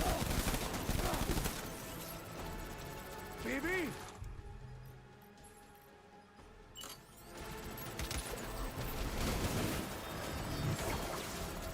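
Video game gunfire from Death Stranding Director's Cut: bursts of shots and crackling rounds in the opening seconds and again near the end, with a quieter stretch between them, mixed under talk and game music.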